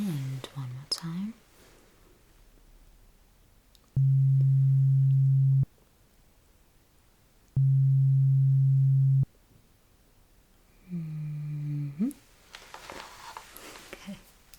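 Hearing-test beep tones: two long, loud steady sine beeps, each about one and a half seconds, separated by a short gap, with soft whispering before and after in a quiet setting.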